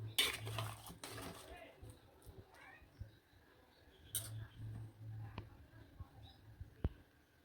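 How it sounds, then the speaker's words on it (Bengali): Beef being stir-fried in a pot for a home-cooked Bengali beef curry: a utensil scrapes and clinks against the pot in bursts, with faint stray voices and quiet gaps between strokes. "শুধু মাংসটা কষাবো"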